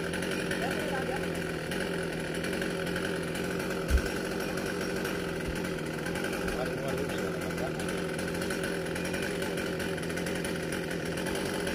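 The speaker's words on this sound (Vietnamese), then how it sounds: "cưa nó không bị trúng cái đoạn thân, nó tưng lên cái gốc mai các bạn." A chainsaw cuts through a coconut tree trunk in a garden of apricot blossom trees, its engine droning steadily and loudly throughout, with one sharp knock partway through.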